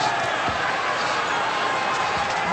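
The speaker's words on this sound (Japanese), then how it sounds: "ものすごい歓声です。" Huge boxing arena crowd roars steadily throughout a 1997 WBC welterweight title fight between Oscar De La Hoya and David Kamau, a loud continuous wall of cheering with no break.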